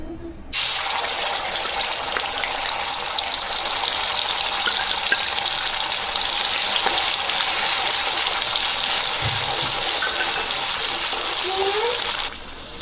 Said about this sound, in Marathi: आता एका कढईमध्ये तेल टाकलेलं आहे आणि तेल गरम झाले, त्यामध्ये आपण कांद्याची पेस्ट बनवलेली ती टाकून घेऊ।